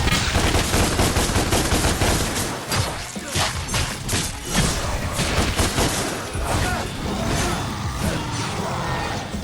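Rapid, loud gunfire from a weapon in the action game Devil May Cry, dense bursts of shots packed closely together over a constant wash of game noise.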